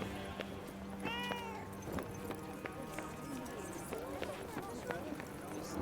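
A cat meows a few times in the Forspoken video game, with clear rising and falling calls over ambient city sounds, clopping hooves and other game noise.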